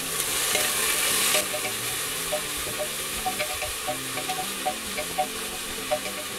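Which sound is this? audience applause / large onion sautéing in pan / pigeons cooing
large onion sautéing in pan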